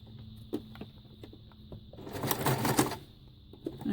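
Sewing machine stitching a short burst forward and back on a fabric ruffle, with a faint intermittent ticking before and after the louder whirring run.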